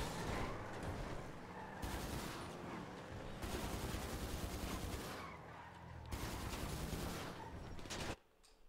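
Rapid bursts of automatic gunfire in the video game GTA, loud and dense, crackling almost continuously in several long volleys before cutting off abruptly near the end.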